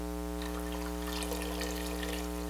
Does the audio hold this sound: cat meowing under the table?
no